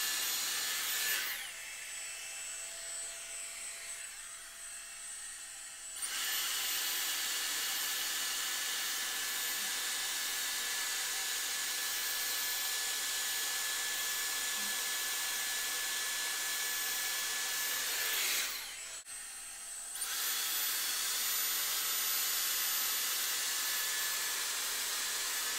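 A Dyson Airstrait straightener blows a loud, steady rush of air while drying curly 3C hair, cutting out briefly twice before resuming its constant whoosh.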